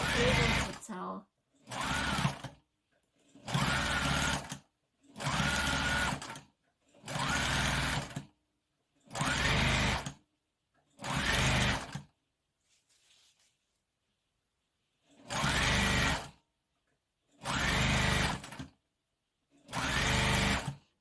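Sewing machine running in repeated bursts of about a second each with short pauses, stitching the hem of a sequined prom dress; loud and close, with a longer gap partway through.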